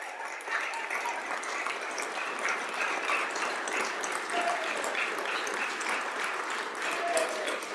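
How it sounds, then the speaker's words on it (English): Applause from the gallery of a state legislative chamber during a House floor session fills the room as a broad, even wash of clapping that holds steady throughout. "so let's clap for all of them because they're awesome people."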